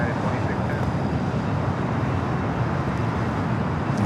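A UPS Boeing 767-300 freighter at Los Angeles LAX airport gives a steady, broad rumble of jet engine and wind noise, continuous and fairly loud throughout with no clear change in level.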